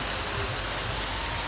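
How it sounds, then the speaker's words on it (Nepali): Water pours steadily down a waterfall near Nagarkot, a dense, even rushing roar that fills the scene, close and unbroken, with no voices. "झर्ना चाहिँ यही हो है अहिले"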